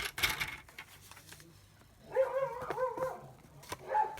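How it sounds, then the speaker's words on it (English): A neighbour's dog barks excitedly in a short burst of several yips and barks, somewhat distant and moderately loud, after a quieter stretch of indoor background noise. "excuse my neighbour's dog getting all excited about something"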